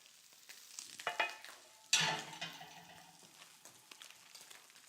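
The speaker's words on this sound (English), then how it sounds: "But I'm gonna put some onions in first." Onions for a jalapeño popper cheesesteak hit a hot pan and sizzle, with a sharp hiss surging about halfway through and scraping stirs that fade to a softer, steady frying crackle, heard up close.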